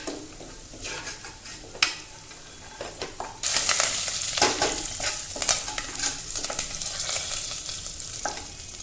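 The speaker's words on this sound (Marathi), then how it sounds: "आता आपण त्याच्यामध्ये हिंग घालूया चांगली परतून घ्यायची मिरची" Green chillies and asafoetida sizzle in a hot pan while cooking batata bhaji, a steady close frying hiss that swells louder midway, broken by scraping stirs and clinks of a spatula against the pan.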